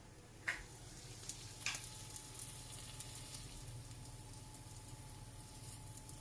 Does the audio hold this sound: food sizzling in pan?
yes